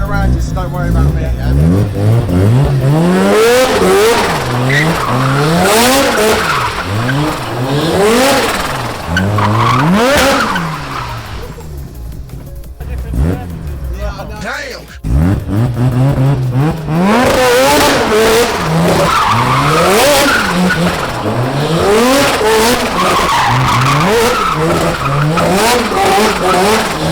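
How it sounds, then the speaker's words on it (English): A Mazda RX-7 FD rotary engine revs loudly up and down repeatedly while tyres squeal through long drifting slides, easing briefly midway before the drifting resumes with voices underneath. "Or I'm sure we can spin up some tyres."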